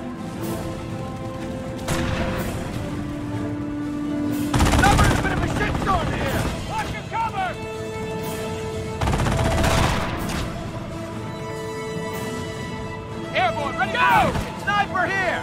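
Gunfire in a Company of Heroes battle: bursts of machine-gun fire and single rifle cracks mixed with booming impacts, layered under game voices and a steady battlefield din.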